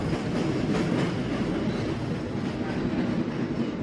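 A Boston subway train rumbles steadily along the tracks, a dense, loud roar with faint rhythmic clatter and no voices.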